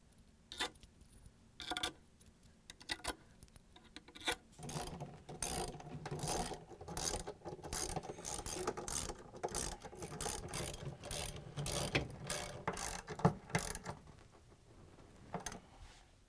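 A ratchet with a 10mm socket tightens bolts on a Samsung washer clutch assembly, giving quiet, rapid clicking pawl bursts that come in repeated runs after a few isolated clicks early on, close and alone.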